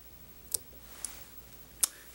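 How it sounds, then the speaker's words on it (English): Small scissors snip thread close while a pheasant tail nymph fly is tied: three sharp, quiet clicks spaced about half a second to a second apart over near silence. "So now we can just trim nice and close."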